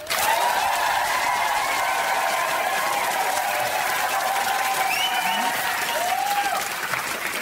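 Steady, loud studio audience applause in a television panel show, voting by clapping for a vacuum loom invention; dense crowd clapping continues throughout with no talk over it.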